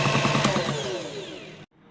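An electric blender mixing brownie batter whirs loudly with a falling motor pitch as it is switched off, then cuts out abruptly into near silence.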